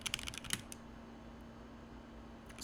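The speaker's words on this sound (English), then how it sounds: "press the little dash on your keyboard, press space" Typing on a computer keyboard: a quick burst of faint key clicks at the start, then a pause and a couple of taps near the end, alone against a low steady hum.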